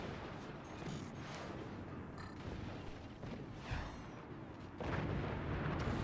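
Weapons firing in the fort-building strategy game Forts, a dense run of booming artillery-like shots and impacts rolling continuously, with a heavier burst near the end.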